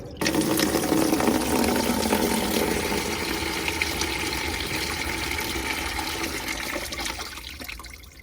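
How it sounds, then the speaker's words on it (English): A van's water pump sprays a pressurised stream into a bucket, a loud steady gushing rush that holds for about eight seconds before cutting off, with no talking over it. "I'm just gonna press the button, then the water should hopefully go flying into the bucket and not anywhere else"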